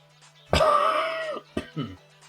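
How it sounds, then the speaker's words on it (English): A single strong, raspy cough bursts out close to the mic, followed by a couple of shorter throat-clearing coughs, with a faint steady hum underneath. "I meant sorry for coughing"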